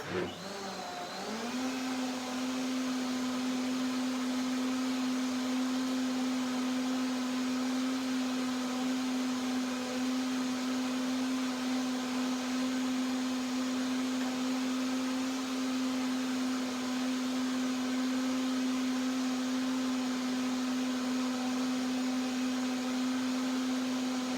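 A blender motor runs at a steady, loud, unbroken hum for over twenty seconds, blending cashews and water into cashew milk.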